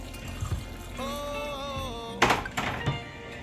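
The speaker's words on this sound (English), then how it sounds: "I'm going to go ahead and add some more water to it" Water poured into a simmering pot of Jamaican curry goat, a soft liquid gurgle with a rising filling pitch, followed by a couple of quiet thunks from the pot.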